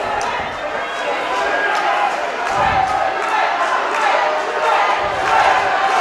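Arena crowd noise from a pro wrestling match, rooting for a wrestler during a count-out at ringside, a steady loud roar of cheering with occasional thumps and swells throughout.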